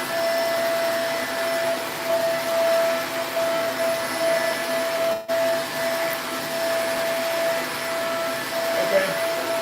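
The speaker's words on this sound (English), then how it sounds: "All it is just a regular vacuum over the carpet." A regular vacuum cleaner runs over carpet with a steady, loud, close whine and drone that stays constant throughout, briefly dipping once midway.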